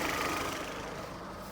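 Vauxhall Astra GSi with a Z20LET turbo engine idling after a turbo rebuild, a steady, quiet mechanical hum with a faint rattle and no break in rhythm.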